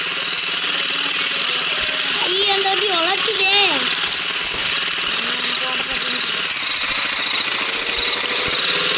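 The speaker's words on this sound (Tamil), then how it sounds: "ஐயோ அந்த வண்டி உழைக்குதே." A small scooter engine labours with a rough, pulsing chug close by, while a voice briefly rises over it partway through.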